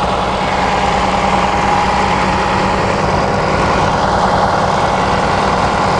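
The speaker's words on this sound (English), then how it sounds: "That right there's a Cummins M11." Cummins M11 diesel engine idling in a 2009 Van Hool TD925 double-decker coach bus, a loud, steady low rumble with constant vibration and no change in pitch, heard alone up close.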